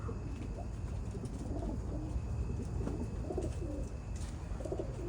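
A pigeon or dove coos repeatedly near an old-fashioned bird trap, soft low phrases over a constant outdoor rumble.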